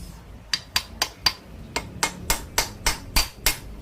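Sharp metallic hammer blows on a misaligned motorcycle part, about a dozen crisp strikes close by, first in quick pairs and then in a steady even rhythm, with no talking.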